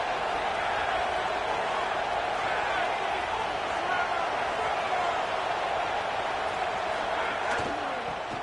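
College football stadium crowd roaring, a broad continuous wall of cheering noise that stays steady and loud throughout, with a commentator's voice faintly under it.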